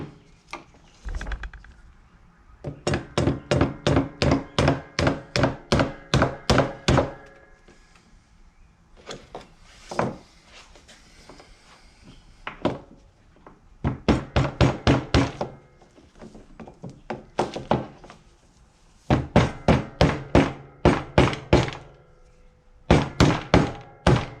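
Metal hammer blows drive a new roll pin back into place, arriving in quick rhythmic bursts of sharp knocks separated by short pauses, loud and close with no talking.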